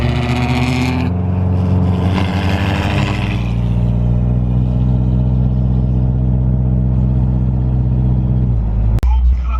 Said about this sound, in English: You probably won't even be able to hear my car when we start up.